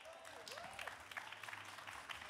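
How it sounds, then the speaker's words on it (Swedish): Audience applause at the Järvaveckan 2024 closing and thank-you ceremony: a crowd clapping in dense, uneven bursts, with a voice speaking briefly near the start. "Stor applåd."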